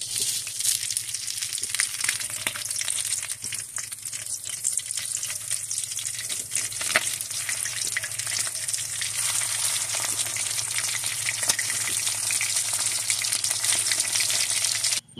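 Tilapia fish pieces, rubbed with turmeric and salt, frying in oil, a loud, dense, unbroken sizzle with sharp spitting crackles over a low steady hum, with no voices.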